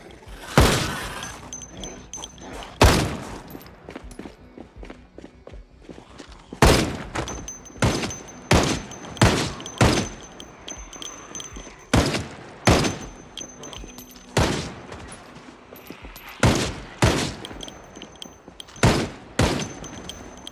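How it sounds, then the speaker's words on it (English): Rapid gunfire from a fast-firing gun in the zombie survival game Project Zomboid, loud bursts of shots repeating in quick clusters with brief gaps across the stretch. "Fire rate on this gun is absurd."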